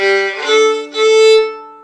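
A bowed violin note that briefly sounds a neighboring string, giving a short double-stop before settling on a single ringing tone.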